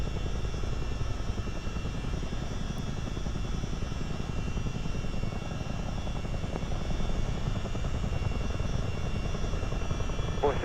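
Steady loud rotor and turbine drone of a CH-47 Chinook helicopter in a flight simulator game during low-level VFR flight, a dense continuous roar filling the whole clip with no talk.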